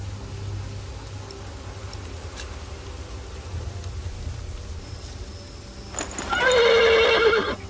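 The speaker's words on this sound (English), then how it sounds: "The horse nearly woke the guard." A horse gives a loud, close whinny near the end, preceded by faint hoof shuffles and a low steady rumble of background noise, with no talking.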